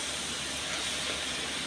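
Banana flower frying in a pan for chop, a continuous dense hiss of hot oil holding steady and even from start to finish, with no voices over it.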